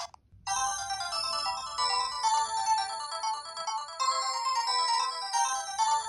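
Bright chiptune-style game music from the Neo Geo baseball game plays through the built-in speaker of a Powkiddy A30 handheld, steady and clear with thin lows, starting after a brief silence.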